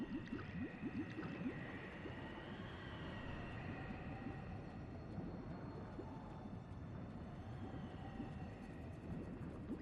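Character drowning underwater in Morrowind, a continuous murky bubbling and gurgling wash with a faint tonal drone above it, steady and unbroken throughout, no voices.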